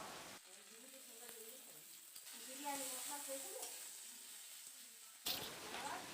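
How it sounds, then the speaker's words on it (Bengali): Onions frying in a pan for chicken biryani, a steady close sizzle with occasional stirring scrapes, continuous throughout with a brief louder burst near the end. "পেঁয়াজটা ভালো করে ভেজে নিতে হবে"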